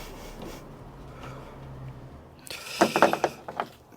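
A ratchet spins a bolt into place on a 2019 Ford Ranger, giving a short burst of quick metallic clicks and rattles after a quiet, faint start.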